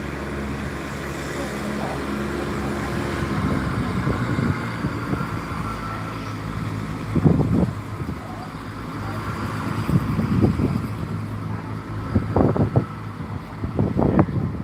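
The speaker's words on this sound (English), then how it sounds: "Bit of rattly engine on that class 170. As it leaves Gloucester" A Class 170 diesel train pulls away from Gloucester with a rattly engine, a low rumble under steady wind noise, swelling in a few louder throbbing bursts at a moderate distance.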